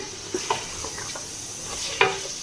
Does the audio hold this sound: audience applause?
no